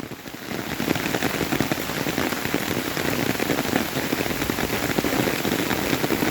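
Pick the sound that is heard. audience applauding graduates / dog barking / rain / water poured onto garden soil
rain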